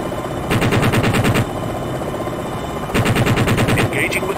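Helicopter cannon fire in the Jane's Longbow combat flight game, two loud rapid bursts of evenly spaced shots, each about a second long, over a constant rotor and engine drone.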